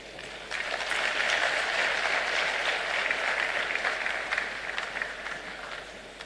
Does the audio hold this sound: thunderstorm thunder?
no